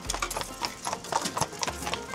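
Horse hooves clip-clopping on a road as horse-drawn carriages pass in Zakopane, Poland, a fairly close, uneven series of hoof knocks over outdoor background noise.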